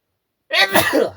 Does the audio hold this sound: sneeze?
yes